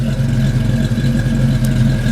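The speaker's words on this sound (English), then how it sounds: "You can hear that 351 rumble." A 1947 Ford pickup with a 351 Cleveland V8, four-barrel carburetor and new exhaust, idling nearby with a loud, steady, deep rumble and no voices.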